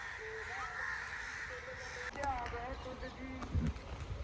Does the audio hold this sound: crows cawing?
yes